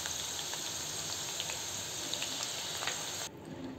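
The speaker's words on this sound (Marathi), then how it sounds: "असा बटाटा आणि फ्लॉवर तळून घ्यायचा" Potatoes and cauliflower deep-fry in oil with a dense, steady hiss and crackle, close and even, that drops away abruptly near the end.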